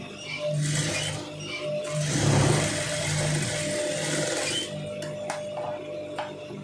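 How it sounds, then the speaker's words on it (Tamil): A sewing machine runs in two close bursts of rapid mechanical stitching on a long sleeve, followed by a few sharp clicks and faint handling sounds. "இந்த இடத்துல தையல் போடுங்க"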